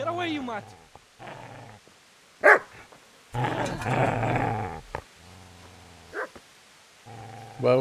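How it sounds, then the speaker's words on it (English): A hostile dog in the medieval role-playing game Kingdom Come: Deliverance snarls and growls in rough bursts with sharp barks between them, close and loud, mixed with short vocal sounds. "It doesn't sound like that's a friendly dog."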